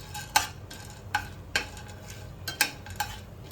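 Food roasting in a little oil in a pan for kolambi masala, with a faint sizzle beneath sharp metallic clinks of a utensil stirring at irregular intervals, close up and without speech.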